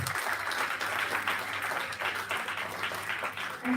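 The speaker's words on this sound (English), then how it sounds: "Please applause with your huge clap." Applause from a seminar audience honouring a process engineer, a dense, steady patter of many hands lasting throughout at moderate level, with a low steady hum beneath.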